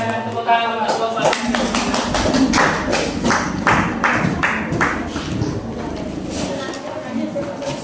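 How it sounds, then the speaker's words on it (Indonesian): Classroom applause for a student group at a vocational school lesson, a dense wash of clapping from many hands that carries on for several seconds, with voices murmuring underneath. "Silakan tepuk tangan untuk kelompok."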